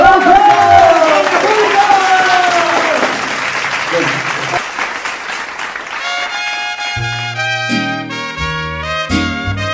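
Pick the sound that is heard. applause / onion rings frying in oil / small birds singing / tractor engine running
applause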